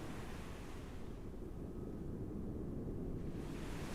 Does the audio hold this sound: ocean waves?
yes